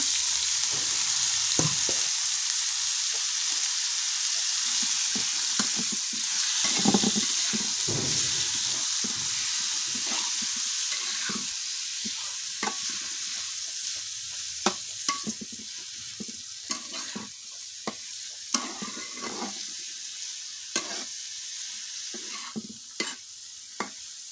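Ingredients fry in oil in a wok in a village kitchen, with a continuous bright sizzling hiss and repeated spatula knocks and scrapes spaced irregularly throughout.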